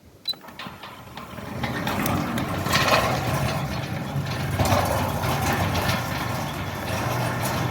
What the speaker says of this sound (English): So it's just gonna quickly open the gate